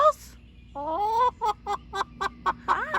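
Two pet hens cluck near the microphone in a steady run of short, rhythmic clucks after one drawn-out call.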